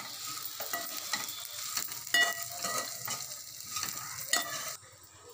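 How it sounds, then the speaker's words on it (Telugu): Sesame seeds and peanuts fry in a pan while being stirred, a close, steady dry sizzle with repeated scraping and rattling strokes that fades abruptly near the end. "ఇవి ఇలా ఫ్రై అయ్యాక దీంట్లోకి కొద్దిగా పసుపు యాడ్ చేసుకొని స్టవ్ ఆఫ్ చేసేసుకుందాం"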